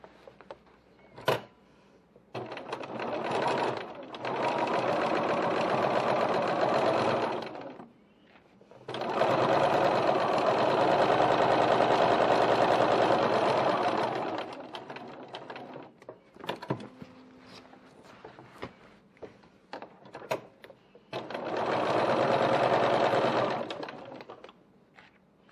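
Sewing machine stitching a foam phone pocket onto a large bowler bag, running in three sustained bursts of several seconds each with short pauses and small clicks between them, close and steady.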